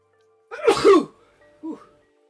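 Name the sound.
sneeze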